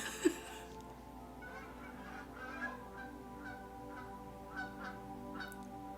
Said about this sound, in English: I hear geese outside, so if you hear that, that's geese.